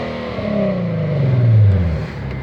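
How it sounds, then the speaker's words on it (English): A 2015 Nissan 370Z gets a blip of throttle, its engine rising in a smooth, close rev and then settling back down, a moderately loud single swell with no talk. "when you're actually giving her a little bit of gas, she sounds so nice"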